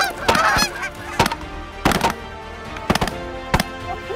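Big Canada geese honk repeatedly as they fly into decoys during a waterfowl hunt, loud and close, broken by several sharp shotgun-like bangs spaced through the clip.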